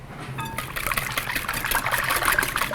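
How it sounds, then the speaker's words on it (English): Milk and heavy cream pour steadily into beaten eggs for a baked custard, a continuous close liquid trickle and splash that builds slightly over a few seconds, with no talking. "I'm going to add 3/4 cup of milk and 1 1/4 cup of heavy cream"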